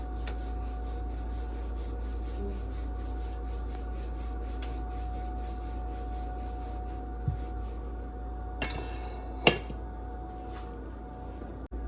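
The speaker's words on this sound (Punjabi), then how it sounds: "ਪੀੜਾ ਇਹਦਾ ਨੂੰ ਬੇਲ ਲਵਾਂਗੇ ਜੀ" A rolling pin rubs and rasps steadily over potato-stuffed paratha dough, a soft continuous scraping close by with a few light knocks near the end.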